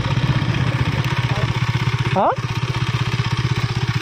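A Yamaha R15M motorcycle engine runs steadily while riding, a pulsing mid-low drone with rapid regular firing beats, close and loud, with a voice briefly speaking over it.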